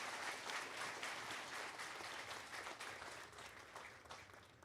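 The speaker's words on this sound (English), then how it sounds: "give a round of applause for that outstanding march pass" A crowd at a farewell military parade for the President of Barbados gives sustained, crackling applause after a march past, heard from a distance and slowly fading.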